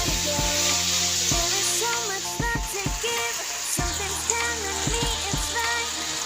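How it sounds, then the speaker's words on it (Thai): Pork stir-frying with holy basil in a pan, a steady close sizzle and hiss running throughout beneath continuous background music. "ผัดกะเพราหมูนะคะเพื่อนๆใกล้จะเสร็จแล้วนะคะ"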